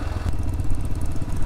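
Yamaha Ténéré motorcycle filtering slowly through a traffic corridor, its engine a steady loud mid-pitched chug with some clatter and wind rumble, continuous and close, no talk.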